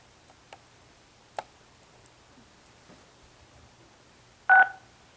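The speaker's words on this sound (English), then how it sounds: "Please press *6 to unmute your phone." A single short telephone keypad tone pair sounds clearly at the end of a quiet remote public-comment line for a county commissioners meeting, preceded by a few faint clicks and ticks.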